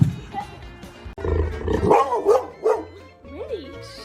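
A dog barks and yips in short bursts with whimpering, fairly close, mixed with people talking over it.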